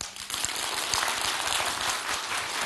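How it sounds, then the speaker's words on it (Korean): Audience applause fills a lecture hall at the close of a talk on the Korean peninsula, steady dense clapping from many hands, loud and sustained throughout with no speech over it. "여러분 다시 한번 큰 박수 부탁드립니다"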